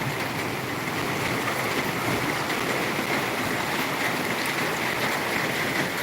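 Steady rushing floodwater flows continuously like a fast river through a residential housing complex in Palembang, broad and full with no breaks and no voices.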